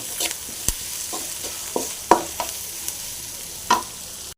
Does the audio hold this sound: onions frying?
yes